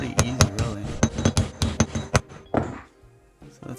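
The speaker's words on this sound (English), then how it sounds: "these fit right inside the races, and then you just hammer them in" Bearing races for a C3 Corvette front suspension are driven in with a hammer and a race installer kit. About a dozen rapid metallic blows land close and loud, then a brief pause follows.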